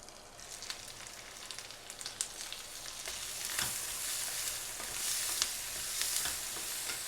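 Sweet corn and mixed vegetables cook in a covered pan, giving a soft, steady sizzle and crackle with a few louder pops, heard alone throughout.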